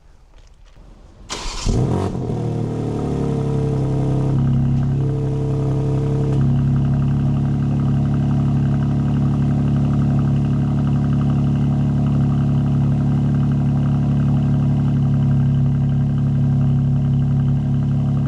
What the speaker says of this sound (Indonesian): Jadi itu suara cold startnya dengan katup knalpot dibuka.